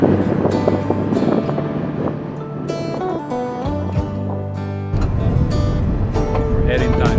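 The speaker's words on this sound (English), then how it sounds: "It's really super windy, so I'm not sure how much you can actually hear me." Strong wind on a hilltop above Lake Atitlán, Guatemala, blusters against the microphone while someone talks over it, with rumbling gusts swelling and easing throughout.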